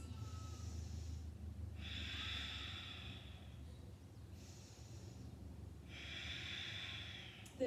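Slow, deep yoga breathing, close and quiet, with four long airy breaths alternating inhale and exhale in an even rhythm, no talking.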